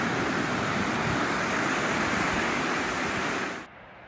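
Rushing river water at the point where two rivers meet after spring rains, a steady broadband roar close by that drops suddenly near the end.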